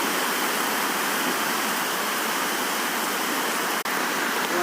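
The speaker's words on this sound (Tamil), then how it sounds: "செம்ம மழை பெய்யுதுங்க." Heavy rain pours down steadily under strong wind under dark clouds, a dense, continuous hiss with no pauses, loud and close.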